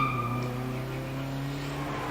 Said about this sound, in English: We see Steve Perry coming through the S's in that MX-5.